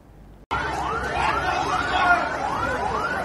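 Wailing sirens rise and fall repeatedly from fire trucks responding to a blaze at a minimarket warehouse in Makassar, loud and continuous after a sudden start, with faint background noise.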